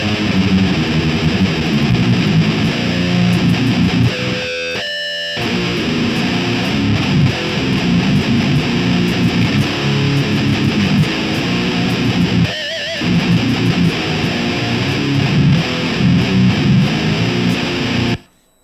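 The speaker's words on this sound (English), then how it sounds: "We're going to actually combine two distortion pedals here" A heavily distorted electric guitar played through two distortion pedals combined plays buzzy, fuzzy chords and riffs, broken by two short silent gaps, then cuts off at the end.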